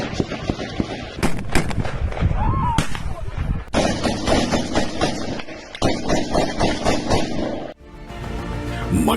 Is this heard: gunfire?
yes